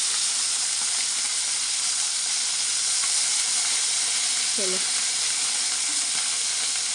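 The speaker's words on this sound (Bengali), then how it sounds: "হলুদ নুন মিশিয়ে ভাজতে দিই আগে। এই যে এটা ভাজতে দিয়েছি, এটা ভাজা হোক," Fish coated with turmeric and salt fries in hot oil, a loud, steady, close sizzle that runs without a break, with a brief spoken word partway through.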